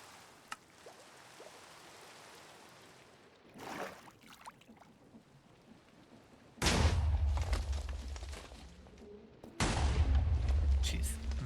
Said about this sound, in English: I'm hearing a few explosions going on.